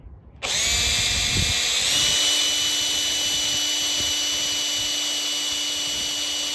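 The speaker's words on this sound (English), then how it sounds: "So I just used my step bit, and I was able to get it drilled out." A power drill with a step bit whines loudly and steadily after a brief start, its pitch settling slightly as it bores a hole for a tractor alternator on a Triumph Spitfire, running continuously to the end.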